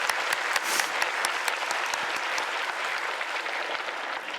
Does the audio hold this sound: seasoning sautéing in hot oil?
no